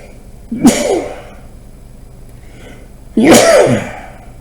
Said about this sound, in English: oops, gotta sneeze